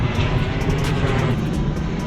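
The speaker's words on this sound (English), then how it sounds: "There's a plane flying over right now." An airplane passes low overhead outdoors, producing a loud, steady broadband engine roar that fills the whole stretch without pauses.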